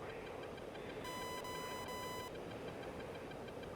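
A warning tone sounds in the DCS flight simulator during an F-15 flight against a Shilka ZSU-23-4, a steady high beep lasting about a second with brief breaks, over constant engine and cockpit noise.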